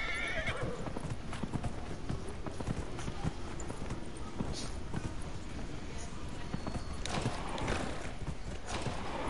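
Horse hooves clip-clopping at a steady run with a whinny, from the Dragon Age Inquisition video game, continuous over layered game ambience and effects.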